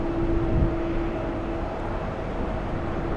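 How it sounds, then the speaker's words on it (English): A British Airways Airbus A380 produces a steady, broad jet-engine drone with a faint sustained hum, distant and continuous throughout. "When is the last time that we've seen the Speedbird A380?"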